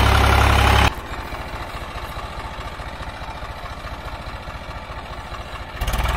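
A worn 1999 Swaraj 735 FE tractor engine idles close by with a steady, rapid low thudding, a louder roar at the start and again near the end.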